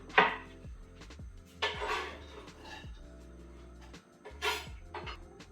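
Chopped onions are tipped into a frying pan for a sweet potato and chickpea coconut curry, with three clattering bursts of pan and utensil noise and scraping between them, fairly close and moderately loud, without speech.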